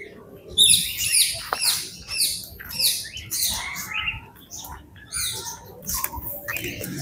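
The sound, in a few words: birds in an aviary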